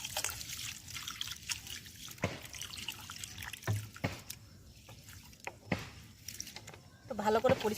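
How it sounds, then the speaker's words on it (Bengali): Water trickling and splashing as something is washed in a village kitchen, with faint intermittent pouring and dripping and a few clatters at close range. "এটা আবার জল দিয়ে আমি ধুয়ে নেব।"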